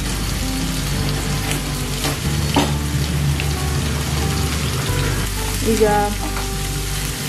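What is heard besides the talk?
chopped onions frying in a pan for prawn egg bhurji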